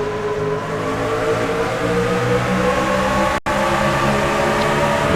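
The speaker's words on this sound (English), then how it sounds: "Listening to the pull of those engines as they do approach" Race truck engines accelerate together after the green flag on an oval track, a steady loud droning roar with a rising pitch as the pack approaches, broken by one brief dropout.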